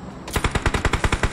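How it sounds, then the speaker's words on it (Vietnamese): Automatic gunfire in the mobile battle-royale game PUBG Mobile: a loud, rapid burst of about ten evenly spaced shots heard close up, with no voices over it. "nó bắn chết bạn tôi rồi"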